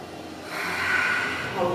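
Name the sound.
instructor breathing in during a HIIT workout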